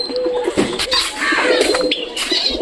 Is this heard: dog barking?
no